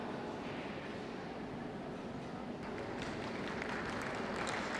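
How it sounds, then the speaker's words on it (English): Sustained applause from a dog show audience, a dense wash of clapping that holds steady and grows slightly brighter toward the end. "I promise, these exhibitors won't mind if you clap."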